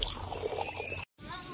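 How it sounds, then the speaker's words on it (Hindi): Water runs from a tap at an ablution station in a steady hiss. It is close and continuous, drops out briefly, then the flow resumes. "इसको यहाँ से ओपन करेंगे तो पानी आएगा।"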